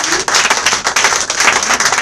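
Loud, close applause and clapping from a church congregation at a prophet's service, a brisk uneven patter of hands that swells and dips without any voices.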